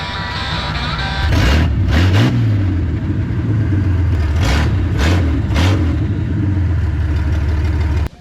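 A 5.0 V8-swapped Ford Ranger pickup in the woods, its engine running loud and close with several sharp revs rising and falling over a steady idle rumble.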